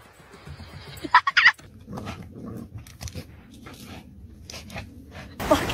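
A pet dog lets out a few sharp, close barks in a short burst amid household commotion and shuffling, followed by a louder noise at the end.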